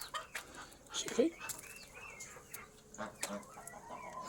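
Backyard chickens cluck near the recorder, a few short throaty calls scattered over soft rustling, with people talking quietly nearby.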